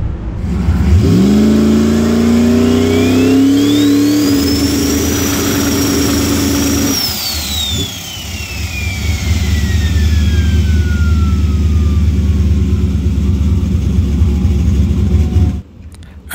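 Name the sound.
race car engine revving during spool test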